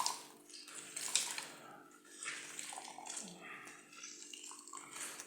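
Water runs and splashes into a sink while lemons are handled and rinsed, the flow rising and falling in uneven washes at a modest level.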